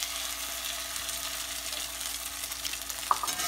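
Eggs cooking slowly over lower heat in a hot pan while being folded, a soft continuous sizzle with light scraping and stirring, close up, and one sharp click near the end.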